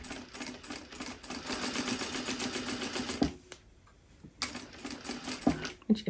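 A sewing machine stitches over a seam of pants in rapid, steady runs, close and clear, stopping briefly midway with a few clicks before running again.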